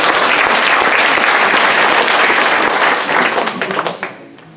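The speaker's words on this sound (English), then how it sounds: "Give yourselves a round of applause." Audience at the 2017 International Drug Policy Reform Conference breaks into dense, loud applause that holds steady for a few seconds, then thins into scattered claps and fades out.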